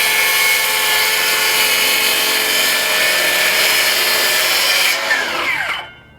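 A power saw rips loudly and steadily through a solid hardwood butcher block countertop for several seconds, then winds down and falls silent at the end.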